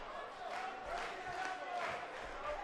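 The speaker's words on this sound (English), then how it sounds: "The crowd in the Hammerstein Ballroom are electric for this one." Arena crowd in WWE 2K18 at the Hammerstein Ballroom for an NXT main event, a steady, distant roar of cheering with swelling waves of noise and no clear individual voices.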